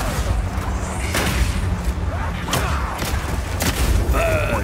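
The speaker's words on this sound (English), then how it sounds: "Any burning enemy or explosion will ignite the oil," Burning oil igniting and exploding in the video game Path of Exile 2 gives several sharp, booming bursts over a dense, steady wash of battle noise.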